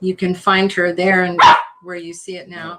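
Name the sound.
dog barking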